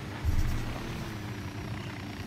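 A helicopter flies in the game Ghost Recon Wildlands, giving a steady low rotor drone with one brief louder thump near the start.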